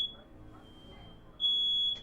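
A smoke alarm beeping inside a player's house, a thin, piercing high tone that sounds faintly at first and then blares loud and sustained for about half a second before cutting off, heard over a quiet room.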